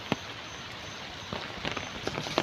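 Rain falling steadily outdoors at a temple site in Chiang Mai, a soft continuous patter with a few brief louder drops, fairly faint and heard alone.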